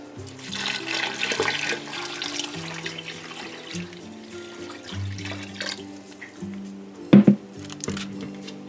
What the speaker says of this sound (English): And then we're going to add in another jug of water.